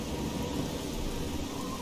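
Heavy rain pours down steadily in the Oblivion video game, a dense, continuous roar of falling water with a low rumbling undertone, loud and unbroken with no voices.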